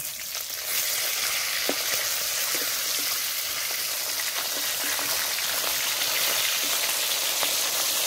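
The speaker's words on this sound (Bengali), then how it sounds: "মাছগুলো উল্টে দিচ্ছি।" Pieces of rohu fish, just flipped, fry in hot oil in a pan, giving a steady, close, even sizzle with occasional small pops and no talking.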